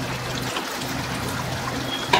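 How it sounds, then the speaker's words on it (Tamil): Thin coconut milk is poured into a pan of cooked fenugreek greens, making a soft, steady trickle close by that continues evenly, with a small clatter at the very end. "இந்த தேங்காய் பாலை நான் இதில் சேர்த்துட்டு இப்போ நான் இந்த கீரையை வந்து கடைய போகிறேன்."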